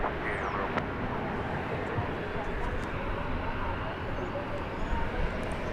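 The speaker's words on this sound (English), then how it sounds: "We'll swing over to catch the departure of this American flight to Austin, Texas" An American airliner departs on flight 1294 to Austin, Texas, from runway 18 Left at DFW Airport, a steady broadband engine roar held at a constant distance, with a faint voice occasionally over it.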